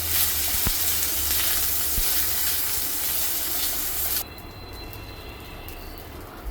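Soaked and drained rice dropped into hot ghee for sweet coconut rice gives a loud, steady sizzle and hiss that cuts off abruptly partway through, leaving a faint quiet hiss.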